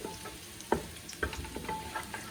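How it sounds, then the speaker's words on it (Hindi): Garlic frying in a pan for Thai stir-fried vegetables, a quiet steady sizzle with a few soft knocks and scrapes of a spoon stirring, close and faint, with no talk. "गार्लिक को हल्का सा ब्राउन कर लेते हैं, गोल्डन ब्राउन कर लेते हैं"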